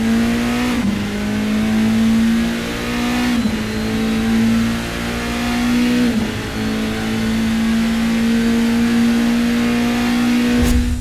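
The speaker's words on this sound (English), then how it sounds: "The Toyota GT1 featured an upgraded R36V twin-turbo V8 engine" Toyota GT-One race car with a twin-turbo R36V V8 producing 600 horsepower, revving hard with repeated gear shifts roughly every three seconds, a loud steady engine tone that dips and climbs again with each change, no voices.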